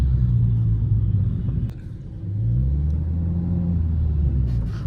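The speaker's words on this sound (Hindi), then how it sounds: "हल्की मीठी मीठी आवाज आती है अंदर एग्जॉस्ट की बस" A Mahindra XUV with an aftermarket exhaust gives a deep, steady rumble, heard from inside the cabin as a low, continuous drone that dips briefly and then swells back.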